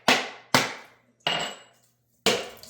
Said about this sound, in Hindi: आज देखो नारियल लेके आए थे कल सेवर से, आज ये कटेगा।